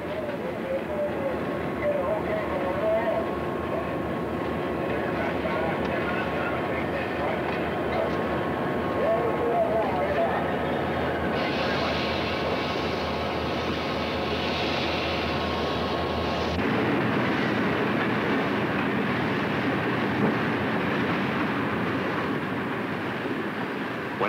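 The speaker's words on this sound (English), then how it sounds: "Trains pass each other, the crews are always on the alert, looking for any sign of trouble on the other train." Long freight trains pass each other on parallel tracks, a steady dense rumble and rolling roar with a brief brighter hiss midway, heard close and continuous under narration.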